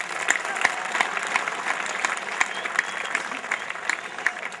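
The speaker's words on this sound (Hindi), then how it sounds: "एक बार डॉक्टर सुनील जोगी जी का स्वागत कर दें आप तालियां बजाकर।" An audience applauds a poet at a college festival stage event, a steady, dense clapping from a sizable crowd sustained throughout.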